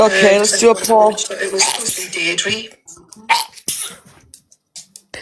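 A person sneezes once, sharply and close by, after a stretch of talking, followed by a few quieter breaths and small noises.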